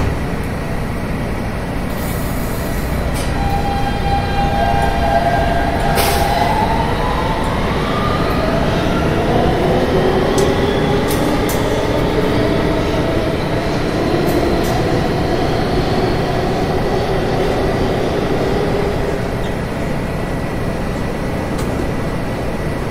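Kawasaki R160B subway train on a Roblox recreation of a Queens-bound G train, running steadily with a continuous loud rumble and rising and falling whine of motors throughout, with no talk.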